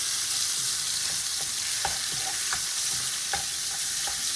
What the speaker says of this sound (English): Turn the heat to medium and start frying them.